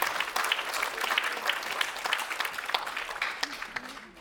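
Warm, steady applause from a crowd at a Hindi honours ceremony in a prime ministers' museum, sustained and fairly loud throughout the short stretch.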